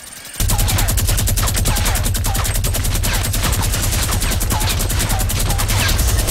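Loud, sustained automatic gunfire from a Fortnite match: a rapid, steady volley of shots that starts abruptly and continues without a break.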